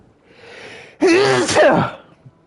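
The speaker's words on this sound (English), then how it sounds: "Oh God, why am I sneezing so much?" A single loud, close sneeze from a person, a sharp burst preceded by a short breathy intake and followed by brief quiet.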